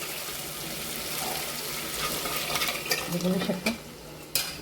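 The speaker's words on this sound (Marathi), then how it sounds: "हे आपण घोटलेली वरणाची डाळ टाकून द्यायची त्याच्यात." Mashed dal being poured into hot oil tempering with spices for sambar and stirred, soft sizzling and wet sloshing with spoon scrapes against the pot, fairly quiet, with brief speech.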